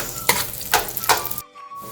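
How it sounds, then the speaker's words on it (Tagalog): Onions frying in a pan while cooking pork sari-sari, a bright close sizzle with three bursts of stirring, then a sudden drop to a quieter hiss near the end. "and then onions. Let it cook for 2 minutes."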